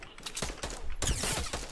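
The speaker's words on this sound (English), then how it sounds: "Shots fired." Gunfire in the video game Fortnite Battle Royale, a rapid burst of loud shots packed closely together, starting sparse and growing denser and heavier in the second half.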